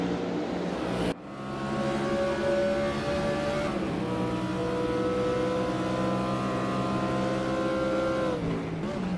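Ford Mustang IMSA GTO race cars with high-revving V8 engines howl in a racing video game at the Salzburgring, a loud sustained engine roar that drops sharply once, then climbs again and holds through upshifts.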